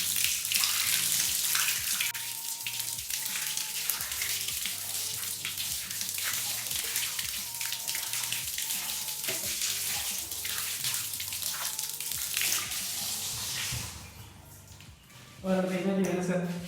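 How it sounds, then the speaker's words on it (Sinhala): A water jet rinses a dirty rough floor tile, giving a steady, loud wash of spray and splashing that runs for most of the clip, with music playing underneath, before dropping away near the end. "අපි දැන් බලමු මේකට වතුර පාරක් අල්ලලා කොහොමද ක්ලීන් කරන්නේ කියලා."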